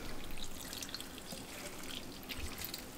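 Water is poured onto a large potted house plant, giving a soft, continuous trickling and splashing that stays low and steady for a few seconds.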